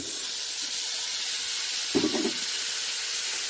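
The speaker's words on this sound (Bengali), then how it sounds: "আলুটা একটু নেড়ে নিচ্ছি, মটরশুঁটিটাও দিয়ে দিচ্ছি" Boiled potatoes and green peas tossed into fried spices in a pan give a steady soft sizzle, broken once by a short louder scrape of stirring, with no voices.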